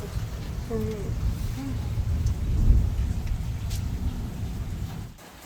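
Steady heavy rain with a low rumbling thunderstorm beneath, heard from inside a 100-plus-year-old Italian home, a deep swell of thunder building midway while a voice briefly murmurs in the background.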